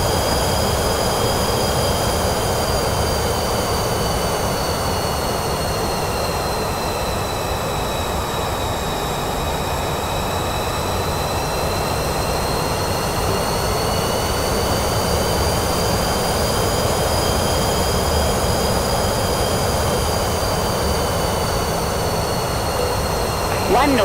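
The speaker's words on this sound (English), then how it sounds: "Francisco Sacanero landing runway 35" A Pilatus PC-24 private jet lands on a runway, a loud, steady jet-engine roar with a high, slowly wavering whine holding for the whole stretch, without a break.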